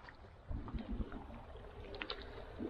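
Paddling out in a boat on a Utah reservoir while fly fishing, with soft water splashes and strokes at moderate distance over a faint, steady outdoor background.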